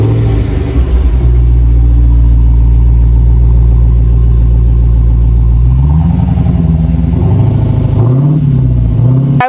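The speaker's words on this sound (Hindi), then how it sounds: "guys let's start the engine" A 2023 Dodge Challenger SRT Hellcat engine rumbles loud and close at a heavy idle, then climbs through a few rising and falling revs, with no talk over it.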